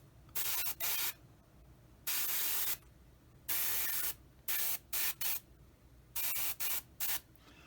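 Short hissing bursts of a spray gun applying primer to an Airfix 1/48 Spitfire Mk XII model kit, on and off in an irregular rhythm, close and clear against a quiet background.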